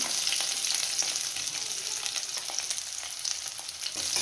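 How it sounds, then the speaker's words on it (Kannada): Green chilies and onion frying in hot oil in a pan, a dense continuous crackling sizzle that stays loud and even, with faint stirring underneath. "ನಾನೀಗ ಹಸಿಮೆಣಸಿನ್ಕಾಯಿ ಸೇರಿಸ್ಕೊತಾ ಇದ್ದೀನಿ. ನೆಕ್ಸ್ಟ್ ಹಾಗೆ ಈರುಳ್ಳಿ ಸೇರಿಸ್ಕೊತಾ ಇದ್ದೀನಿ."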